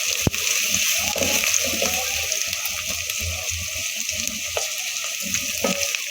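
Onions frying in a pan with garlic ginger paste give a steady, close sizzling hiss, broken by soft scraping and clinks of stirring; nobody talks.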